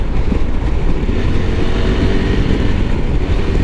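A 2021 KTM 390 Adventure single-cylinder motorcycle engine roars loud and close in a steady, dense drone, with no break or clear rev change.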